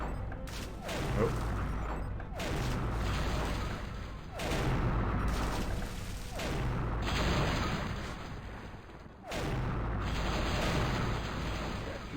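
Cannons fire in the Curse of Monkey Island video game, sounding as a few heavy, booming blasts roughly every two to three seconds over a steady low rumble, with quiet talk faintly underneath.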